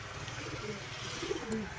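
Pigeons give soft, low cooing close by, a few short murmured calls over a faint steady background hum.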